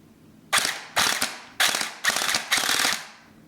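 A Firecow M249 SAW gel blaster test fired in five short, loud, close mechanical bursts, each a rapid rattling clatter followed by a brief pause.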